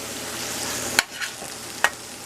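Eggs frying in a pan give a continuous close sizzle, with two sharp crackling pops standing out briefly above the hiss.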